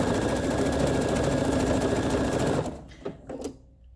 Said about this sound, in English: And as I sew, I'm just going to keep moving this all over the place, so it's just randomly stitching.